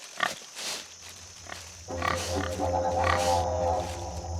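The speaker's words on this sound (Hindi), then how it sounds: "सुअर।" A pig grunts and snorts in a series of rough, close bursts, growing denser and more continuous in the second half, alone without talk.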